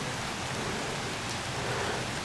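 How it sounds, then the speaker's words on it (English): Steady outdoor rain falling during an evening deer hunt, a constant broadband hiss of drops with no break, close and even throughout. "If it'll quit raining"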